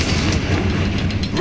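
Fiery Confringo blasting spell from Hogwarts Legacy, a loud sustained crackling burst with a deep rumbling low end that stays dense and steady throughout the short moment, heard alone without talk.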